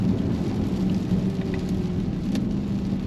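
Steady rain hisses over a low, rumbling drone inside a BMW XM while driving, continuous and fairly loud, with no talking.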